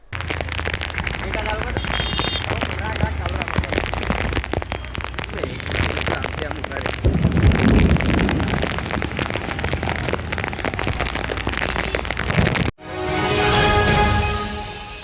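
Heavy rain falls while rainwater rushes along the streets, a dense, constant hiss and wash that continues under a voice speaking, ending in a brief break and a different burst of sound.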